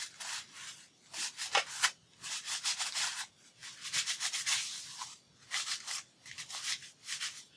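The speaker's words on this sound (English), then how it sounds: "let me wipe this off" A cloth scrubs ink off a stencil in close, brisk rubbing strokes, repeated in rhythmic bursts with short pauses between them.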